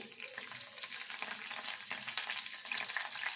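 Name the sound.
tempering of dried red chili and curry leaves frying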